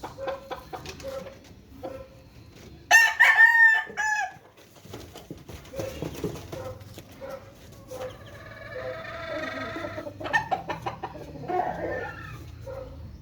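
A rooster crows loudly nearby on a large farm in Samar, Philippines, with hens clucking and other farmyard birds calling around it.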